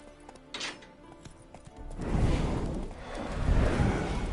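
Horse hooves in The Witcher 3 video game, quiet at first and then swelling into a steady rush of galloping with a faint whinny, heard without speech.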